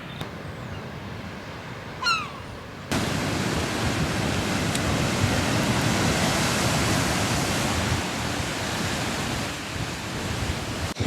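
Sea waves at West Bay wash steadily onto the shore as a broad, continuous roar, loud and close, after a short quieter opening with brief chirps, with no talking.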